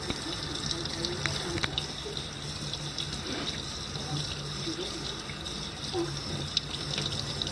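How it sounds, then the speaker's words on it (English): Tap water runs steadily into a sink while Canada goose breasts are rinsed to clear off stray feathers, a constant close splashing wash with faint background voices. "we're just gonna rinse it off now. Get any of the other feathers off."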